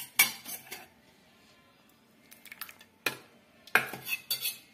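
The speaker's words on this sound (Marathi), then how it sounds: "सगळं मिक्स करून घेते आता वरून." A spoon clinks and scrapes against a pot while mixing chicken biryani marinade with yogurt and lemon juice, in a few sharp close bursts separated by quiet gaps and no talking.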